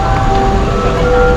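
A tinny electronic chime melody plays continuously on London Bridge, steady and fairly loud against a broad wash of traffic and road noise.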